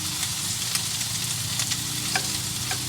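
Meatballs for Italian wedding soup sizzle steadily in a hot pan, a continuous close frying hiss with a few sharp crackles and pops scattered through it and no talking.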